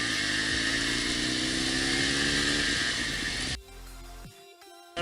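A motorcycle on a learner ride shifts from first into second gear: a loud rising engine whine climbs steadily, then drops off abruptly as the clutch is pulled, followed by quieter rumbling and a brief clank.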